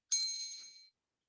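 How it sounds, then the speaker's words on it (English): A spelling bee bell rings once for a misspelled word at a regional competition, a single bright, clear ding that fades over under a second, alone without talk. "so you'll hear this bell and that means that you have misspelled the word"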